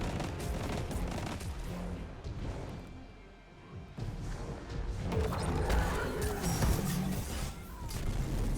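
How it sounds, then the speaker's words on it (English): Heavy, booming shotgun blasts from the Acrius in Destiny 2 fire in a rapid series against a large ogre, with crashing impacts and mechanical clatter between shots. "Five acrius shots and a dead ogre."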